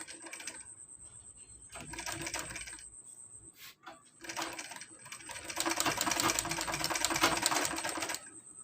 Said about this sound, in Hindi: इसी तरह से हम पूरे को स्टिच कर लेंगे।